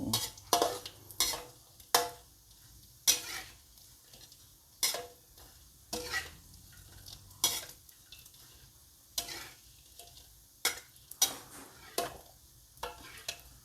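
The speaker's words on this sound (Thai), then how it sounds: "ดี๋ยวเราก็เอาหมูกรอบนะคะทอดให้กรอบๆอีกหน่อยหนึ่ง" Crispy pork pieces are frying in hot oil for a spicy holy basil stir-fry, with repeated sharp clattering stirs and scrapes of a utensil against the pan over a soft, steady sizzle.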